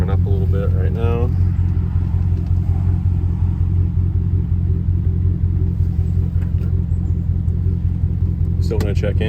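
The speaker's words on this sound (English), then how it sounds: "So the truck's warming up a little bit right now." A Chevy pickup idles while it warms up after a knock-sensor bypass and new plugs and wires. The low engine rumble is steady, and brief bits of a voice come at the start and the end.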